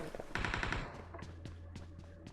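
A video game weapon fires a rapid burst of automatic gunshots, then a handful of slower single shots spaced apart and echoing over a steady low hum, fairly faint overall and without speech.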